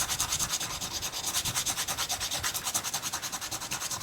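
Sandpaper rubs over a kolrosing pattern cut into a wooden spoon in steady, rhythmic back-and-forth strokes, close and continuous with no talking.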